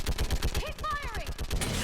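Rapid bursts of gunfire from Mass Effect 3 crack in a steady rhythm over a short stretch, loud and close, mixed with game effects and a brief voice.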